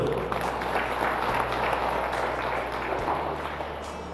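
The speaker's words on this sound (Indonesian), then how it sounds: "Kita tepuk tangan dulu." Applause from a community audience at a provincial governor's visit in Paniai, Papua Tengah, a steady dense wash of clapping filling the whole stretch at moderate level, with faint crowd murmur underneath.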